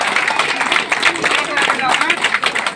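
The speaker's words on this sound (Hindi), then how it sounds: "जोरदार तालियां संजना बाई के लिए" A crowd claps for a runner finishing a rainy monsoon marathon, a dense, loud, continuous patter of many hands with voices mixed in.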